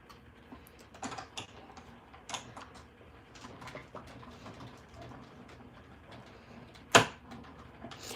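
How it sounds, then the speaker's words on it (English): A die cutting machine used for crafting gives one sharp, loud pop as the die passes through, over quiet, soft clicking and rustling. "It's normal for it to pop when it's going past the die."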